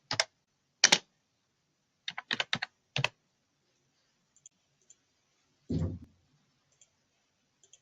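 Short bursts of typing on a computer keyboard, with several clusters of rapid key clicks separated by pauses and then a softer thump near the end. The keys are close and clear against an otherwise quiet room.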